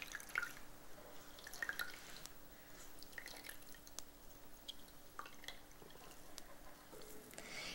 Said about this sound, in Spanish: Vean qué montón de agua sale.